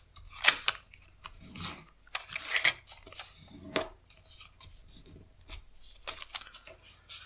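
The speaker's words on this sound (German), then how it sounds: "falte das herunter." Paper being creased and folded by hand into an albatross glider paper airplane, with a series of close, crisp rustles and sharp scraping swipes along the folds, no talking.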